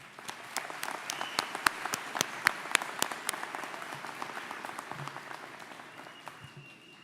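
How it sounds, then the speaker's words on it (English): Graduating class of 2022 applauding at a spring commencement ceremony, with a few sharp nearby claps standing out over a softer, sustained crowd clapping that slowly thins toward the end. "Give yourselves another round of applause."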